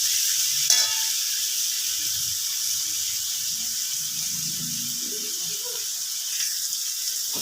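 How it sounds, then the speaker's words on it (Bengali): Chopped bottle gourd drops into hot spices in a pan with a brief clatter, then a soft, steady sizzle and faint stirring noises continue on their own. "এবার আমি সবটা লাউ দিয়ে দিলাম।"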